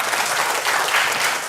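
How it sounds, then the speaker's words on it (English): An audience at an indoor product demonstration bursts into brief, dense applause, loud and close throughout. "please give yourself some applause"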